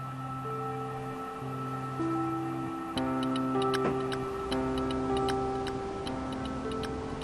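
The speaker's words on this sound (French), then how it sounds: "le musée du temps abrite une exposition d'horloges comtoises" Clocks tick in a steady, sharp rhythm over sustained musical tones, the ticks crisp and evenly spaced.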